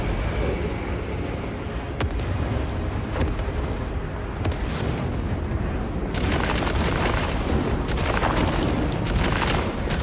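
Continuous loud booming gunfire in a sci-fi video game's final battle, dense repeated blasts and rumbling impacts filling the whole stretch with no pauses.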